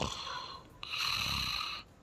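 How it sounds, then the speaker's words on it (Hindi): A man snoring loudly in bed, two rasping, wheezy inhalations in quick succession, close and prominent with nothing else heard. "आपके खराटों की आवाज़ थी"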